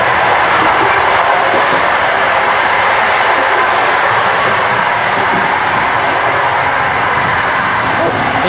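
A moving passenger train in Uzbekistan gives a loud, steady rumble and rattle that fills the whole stretch without a break, with no voices over it.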